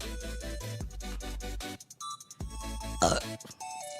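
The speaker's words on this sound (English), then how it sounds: "Burping." A single short burp during a Gunpla model-building livestream, a brief rough burst against quiet background music.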